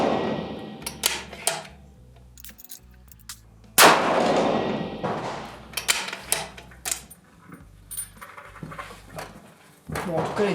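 .308 Win rifle shots fired on a range during load development with a chronograph, heard as a few sharp, loud cracks spaced seconds apart, with a person talking between them.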